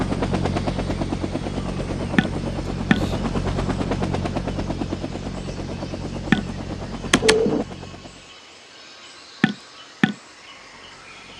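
Helicopter rotor chopping steadily in the Vietnam 65 strategy game, a dense rhythmic thrum with sharp clicks and bursts over it, before cutting out to near-silence broken by a few isolated sharp taps.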